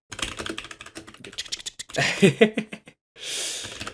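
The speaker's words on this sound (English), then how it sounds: "I'm gonna Google this real quick with my loud keyboard" Rapid clattering keystrokes on a loud computer keyboard, close up in quick irregular bursts, followed by a brief breathy noise at the end.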